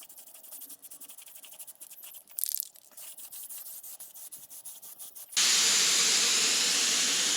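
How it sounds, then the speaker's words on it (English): A Rust-Oleum self-etching primer spray can releases a loud, steady hiss after several seconds of quieter rubbing and handling sounds, spraying continuously near the listener on end plates of a 1984 Ford F250 4X4. "It's a self-etching primer, just a Rust-Oleum spray can."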